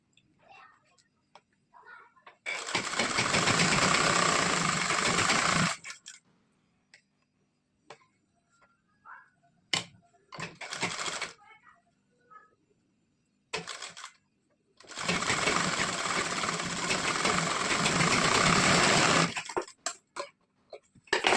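A sewing machine stitches a four-tuck blouse in two sustained runs of several seconds each, close and steady, separated by quieter handling noises and clicks.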